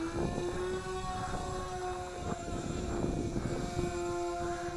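Eachine Mirage E500 VTOL FPV airplane lifting off vertically, its electric motors giving a steady, fairly loud whine with sustained tonal hum and some wind buffeting throughout.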